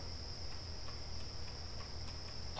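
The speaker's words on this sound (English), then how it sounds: "I can't hear you thanks to this goddamn crickets" A steady high-pitched cricket chirp drones continuously in a Roblox game, faint and even, over a low rumbling background with no talk.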